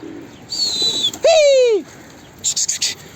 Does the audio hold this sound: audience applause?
no